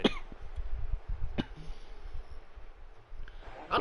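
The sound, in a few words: people coughing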